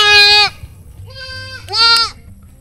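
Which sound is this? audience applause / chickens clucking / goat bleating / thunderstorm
goat bleating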